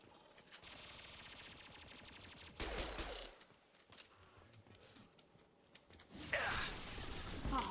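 Machine gun fire in the video game Mass Effect 2 rattles in rapid sustained bursts, with a quieter stretch and heavier blasts breaking in between the volleys.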